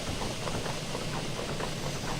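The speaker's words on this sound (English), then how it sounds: "Why is that blowing off steam?" In the Derail Valley train game, a steam locomotive blows off steam with a continuous loud hiss and rumble that surges slightly in waves throughout, with no talking.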